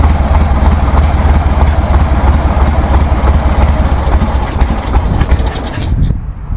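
A 1973 Harley-Davidson Sportster engine fitted with CV40 carburetors runs loud and close, a steady throbbing idle with slight rev swells, cutting off abruptly near the end.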